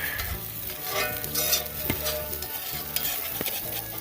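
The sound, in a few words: stirring food sizzling in a hot pan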